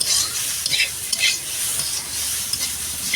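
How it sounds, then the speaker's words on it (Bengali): Papaya pieces frying in a pan give a dense, steady sizzle close by, with occasional stirring scrapes rising briefly above the hiss. "এই দেখো লাল লাল করে পেঁপেটা ভাজি করে নিয়েছি"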